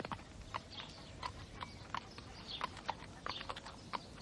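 A mare clip-clops at a steady walking pace, hooves striking in a regular rhythm of sharp knocks, fairly near and moderately loud over a soft outdoor background.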